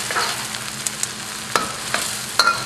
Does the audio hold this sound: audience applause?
no